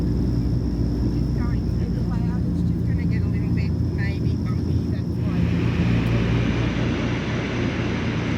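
Steady, loud drone of a WWII-era DC-3 airplane heard from inside the cabin in flight, a dense engine rumble with wind rush that stays constant throughout, with faint voices underneath.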